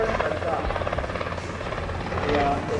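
Helicopters, including an R-22, at an executive air fair, with a steady loud rotor chop and engine buzz close by, while people talk over it.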